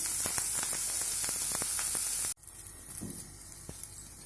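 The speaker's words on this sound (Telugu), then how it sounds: "నూనె వేడవుతుంటుంది. ఇప్పుడు ఉల్లిగడ్డ వేస్తాను." Chopped onions hit hot oil for an omelette, a dense loud sizzle that cuts off abruptly, followed by a quieter crackle with faint clinks.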